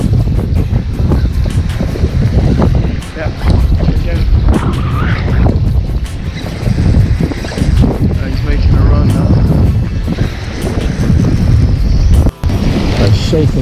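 Strong, blustery wind at sea during lure fishing for bluefish from a boat, loud and constant as it buffets the microphone in heavy rumbling gusts, with waves and a voice talking underneath through most of it.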